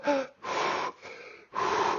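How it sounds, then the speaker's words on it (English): Forceful breathwork: loud, close breaths drawn in and blown out in a quick alternating rhythm, four sharp bursts of air in about two seconds with brief gaps between, no speech. "take a big breath and then go"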